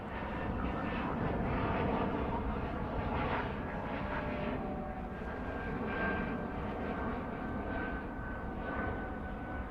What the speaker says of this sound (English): that 787 is brand new for American Airlines